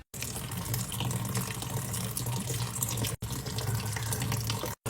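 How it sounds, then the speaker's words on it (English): Tap water runs in a steady, close, full stream into a sink while a silicone pop-it fidget toy is rinsed, with brief breaks in the flow. "So first we're just gonna wash my poppet."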